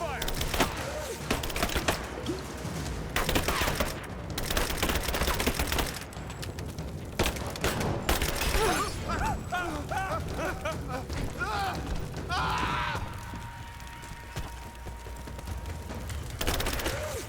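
Enemy gunfire in the Rise of the Tomb Raider video game during a fight at a barricade, dense bursts of rapid shots in clustered volleys with short pauses, loud and close, mixed with game noise and some voices.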